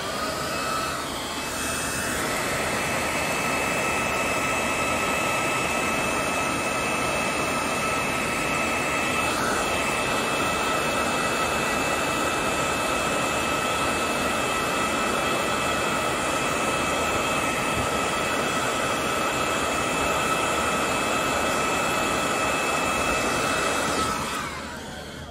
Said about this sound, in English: Use a regular blow dryer